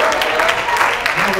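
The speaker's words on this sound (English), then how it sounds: "clap your hands and shout hallelujah" A church congregation claps and shouts during a Pentecostal-style sermon, loud close clapping mixed with voices calling out over it in a lively burst.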